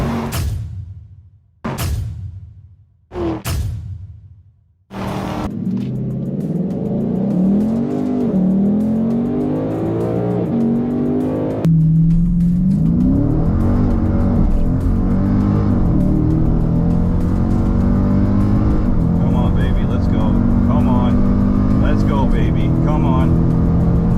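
Two cars, a Mustang 5.0 and a Scat Pack, accelerating hard side by side in a roll race, engines roaring loud and rising through gears with a sustained howl after a few short revving bursts, voices talking over it.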